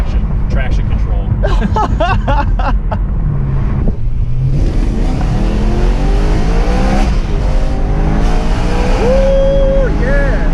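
A BMW M3 accelerates hard from inside the cabin, its engine note climbing and shifting through rising sweeps, loud and close, while people talk over the noise.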